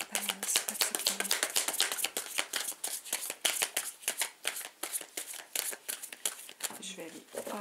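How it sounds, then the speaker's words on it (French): Tarot cards shuffled by hand for a reading, a fast run of crisp riffling flutters and taps repeating close up with hardly a pause, while a voice murmurs faintly underneath. "Je vais aller tirer les cartes"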